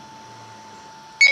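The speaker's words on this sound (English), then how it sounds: "That beeping sound you're hearing now," A faint steady hum, then a short, bright electronic beep near the end from a BlueSkySea DV988 motorcycle dual dash cam.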